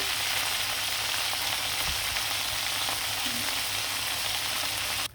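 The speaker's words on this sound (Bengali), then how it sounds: "সবগুলো মাংসই কিন্তু ভাজা হয়ে গেছে লাল লাল করে" Chicken leg pieces fry in hot oil until they brown. A dense, even sizzle fills the whole stretch close to the pan and only cuts off at the very end.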